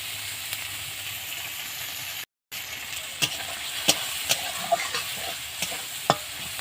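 Crushed green chili frying in fish oil in a pan, a steady soft sizzle with occasional stirring clicks and scrapes, close and quiet, with a brief gap partway through.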